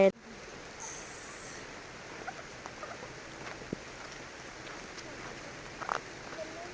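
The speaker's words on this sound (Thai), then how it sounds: "ฝนกำลังตกหนัก" Heavy rain falls steadily over a garden, a soft, even hiss that runs throughout with a few faint, scattered taps and rustles on top.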